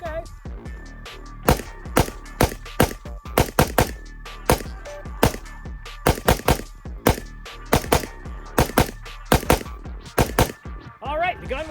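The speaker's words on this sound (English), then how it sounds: "All right, first shots, let's run it unsuppressed" An unsuppressed Springfield Armory Saint Victor AR-15 fires a long series of sharp, loud, close shots, some spaced apart and others in quick pairs and clusters, with ringing between them.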